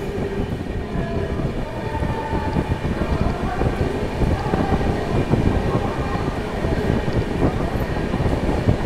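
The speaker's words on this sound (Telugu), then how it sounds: "మెయిన్ లైన్ మీద స్టేషన్ ఉన్న దెబ్బకి ఏ రేంజ్లో యాక్సలరేట్ అవుతున్నాడో" The Vikramasimhapuri Amaravati superfast express train, running Gudur to Vijayawada, rumbles loudly and steadily with rhythmic clattering of wheels on rails, the roar building as it accelerates on the main line past a station.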